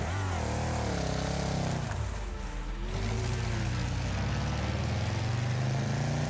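A car engine in the Wreckfest racing game rumbling at low revs, a deep growl with shifting pitch as revs rise and fall, steady and fairly quiet with no voices.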